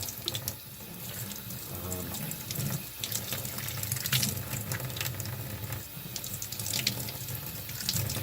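Tap water running steadily into a sink as a painted plastic model is rinsed under it, a continuous close splashing with slight shifts as the piece moves through the stream.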